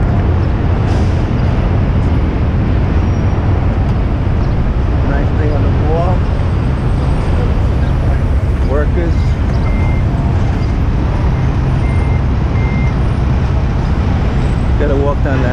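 Busy street traffic with buses, a continuous loud roadway rumble with engines passing and occasional higher mechanical whines. Voices talk over it at times.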